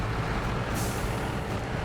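A truck in a truck-driving video game rumbles loudly and steadily up close, with a brief hiss of its air brakes partway through.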